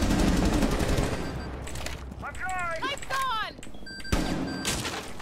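Gunfire in Rainbow Six, loud bursts of shots at the start and near the end, with chirping electronic game sounds in between and voices talking over it.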